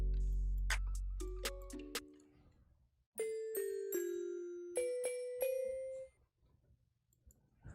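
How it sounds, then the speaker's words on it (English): Synthesized soundfont bell tones ring out, first a quick run of several chimes, then a second series of bright notes that decay after each strike; no voices. "You have a few bell sounds."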